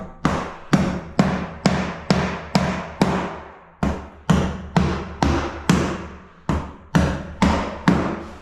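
Hammer strikes driving nails into cement sheet laid and glued over a wooden floor: about seventeen sharp, loud, evenly paced blows close by, with a brief pause midway and no talk.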